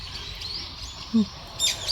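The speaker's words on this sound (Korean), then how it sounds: "지금 여기저기서 지금 새들이 난리가 났습니다" A few bright spring bird chirps and tweets ring out in quick, scattered bursts over a steady outdoor background hum in the morning, moderately close, with no talking.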